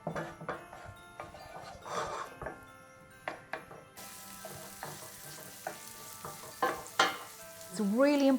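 Onions frying and being stirred in a pan while being cooked down for a Christmas porchetta stuffing, a steady close sizzle broken by repeated scraping stir strokes, growing louder toward the end.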